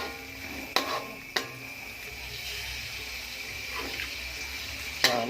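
About 2 liters of water run steadily into a cooking pot of fragrant spices with a soft splashing rush, punctuated by a few sharp metallic clinks of utensils.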